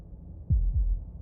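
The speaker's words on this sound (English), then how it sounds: "That was the sound of a heartbeat" Two deep, muffled heartbeat thumps sound in quick succession over a low hum in the video game Slaying the Princess, with no talking.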